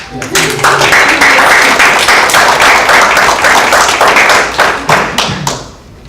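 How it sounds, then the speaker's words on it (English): A room of members at an annual general meeting claps for a colleague, close and loud sustained applause with sharp individual hand claps, fading out at the end, with some talking over it. "Can we give Lex a round of applause?"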